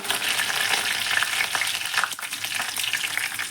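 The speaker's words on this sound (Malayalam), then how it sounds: "വെളിച്ചെണ്ണ ചൂടായി വരുമ്പോൾ ഒരു ടീസ്പൂൺ കടുക് കടുക് പൊട്ടിയിട്ടുണ്ട്" Mustard seeds and curry leaves crackle and sizzle in hot coconut oil, a dense, loud, continuous frying hiss with scattered pops, close up and with no voices.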